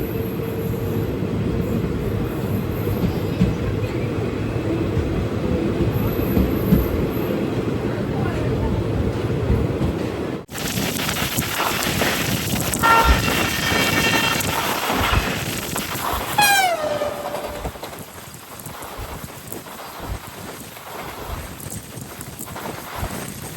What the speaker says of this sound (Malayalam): ഒമ്പത് 28 ട്രെയിൻ ഇപ്പോൾ മധുരൈ ജംഗ്ഷനിലേക്ക് ഇതാ എത്തുകയാണ്